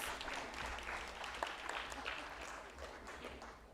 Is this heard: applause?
yes